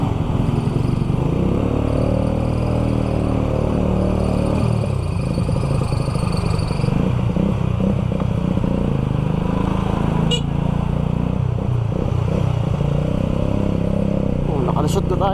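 Motorcycles and jeepneys jostle in congested street traffic, a steady engine rumble and clatter running throughout with people talking over it.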